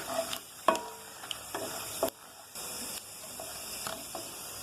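Dried red chillies fry quietly in a pan as tempering for temple-style bisibelebath. A soft sizzle runs underneath, broken by intermittent scraping stirs and a few sharp clinks of the spoon against the pan.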